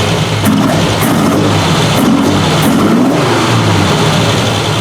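A 1968 Triumph TR250 engine with its gas pedal pressed revs loudly in several rising surges over a continuous rough rumble, recorded close up.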